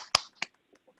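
Two sharp, crisp hand claps ring out a moment apart, followed by a couple of faint soft taps in an otherwise quiet room.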